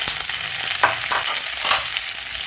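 Chopped okra fries with onion and garlic in a hot pan, a continuous crackling sizzle broken by a few scraping stirs of the spoon.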